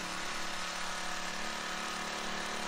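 An 8 horsepower power trowel smooths a freshly poured concrete slab in freezing weather, its engine droning steadily and fairly loud with no pauses or talk.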